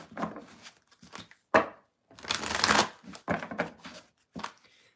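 A deck of tarot cards being shuffled in several bursts of riffling and slapping, close and fairly loud, with short pauses between the shuffles and no talking.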